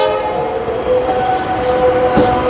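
A South Eastern Railway EMU train passing near the Tikiapara car shed in Howrah gives a loud, continuous rumble with sustained tonal whine and horn-like notes, plus rail noise swelling toward the end.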